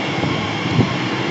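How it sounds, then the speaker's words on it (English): A passenger train departs Southall station on the Great Western Main Line, giving a steady loud rumble of wheels and carriages with a slight swell partway through. The moment is brief. "departing now is the service to Hazen Hollington only"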